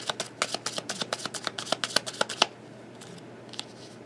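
Tarot cards being shuffled, giving a quick run of crisp riffling snaps at a steady rhythm for about two seconds, then a few faint soft card slides.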